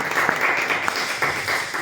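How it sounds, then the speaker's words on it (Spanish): Audience at a cultural conference in Chiapas applauds to welcome an anthropologist to the stage, a steady close wash of many hands clapping throughout, with a few sharper individual claps standing out. "Recibamos con un fuerte aplauso al antropólogo Juan Ramón Álvarez Vázquez"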